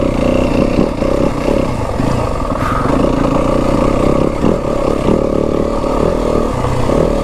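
Yamaha WR 250F dirt bike ridden along rough single track at Kelly Canyon, its engine droning loud and close with steady clatter and knocking from the bumpy ground throughout.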